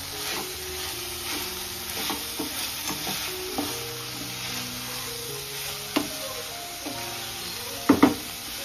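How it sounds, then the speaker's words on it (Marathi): Chopped dengrya pods are stirred and sautéed in gravy in a pan, giving a soft, steady sizzle with occasional scrapes and taps of the spoon against the pan. "आता आई परतून घेतो त्यांना."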